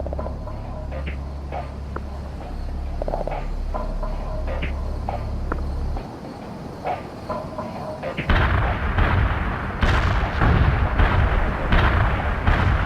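Artillery fire in the World in Conflict video game: heavy booms and rumbling blasts, first a steady distant barrage, then louder, denser impacts that crash in after a brief lull.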